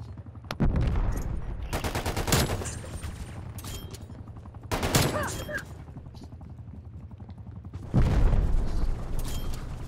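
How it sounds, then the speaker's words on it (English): Video game gunfire fills the space, with bursts of rapid automatic shots and single loud cracks around two, five and eight seconds. A player talks over the action. "He's shooting me through the wall."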